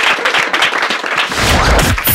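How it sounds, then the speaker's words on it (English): A studio audience breaks into loud, close applause with sharp, crisp hand claps in a quick, irregular burst, ending in a brief swell of noise. "Can we have a round of applause?"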